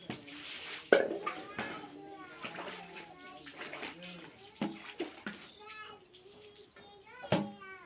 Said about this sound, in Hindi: बस 2-4 बर्तन था तो भी करके साफ कर देते हैं